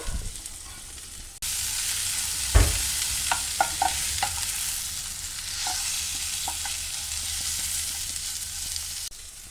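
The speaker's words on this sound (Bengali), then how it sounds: "এখন এই যে সেম তেলের মধ্যে আমি এই ভাত সিদ্ধ করা পটলের চামড়াগুলো ভেজে নিব" Boiled pointed gourd peels fry in oil, a soft continuous sizzle close by. Scattered spatula scrapes and clicks run through it, with one sharp knock against the pan near the start.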